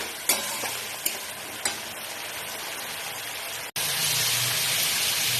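Spice masala fries in a pan for a Bengali fish curry, hissing steadily with a few sharp scrapes of a spoon. The sizzle cuts off briefly, then comes back louder and fuller.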